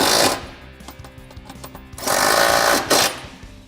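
A power tool with a 6mm hex socket tightening step bar bracket bolts on a 2014–2018 Silverado, two loud, close whirring ratchety bursts separated by a quieter pause.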